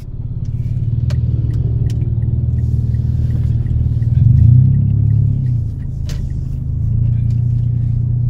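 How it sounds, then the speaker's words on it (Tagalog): A motorized tricycle rumbles along a road near an elementary school, its mid-pitched engine steady and fairly close, swelling briefly as it passes before settling back to a continuous drone. "At may tricycle pa."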